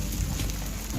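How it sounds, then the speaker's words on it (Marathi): Heavy rain pours down at Kawalya Gad in the Bhor Ghat hills, a dense, loud, continuous wash of drops drumming on surfaces nearby. "हा बेकार पाऊस आलाय"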